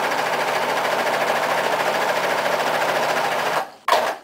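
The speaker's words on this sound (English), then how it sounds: "I'll put the presser foot back down and stitch again" A serger sewing machine stitches cloth wipe fabric in one steady, fast continuous whir close by, then cuts off near the end before a brief burst of stitching restarts.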